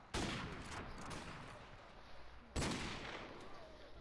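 Two loud sniper rifle shots in a video game, each a sharp crack followed by a long fading rumble, spaced a few seconds apart.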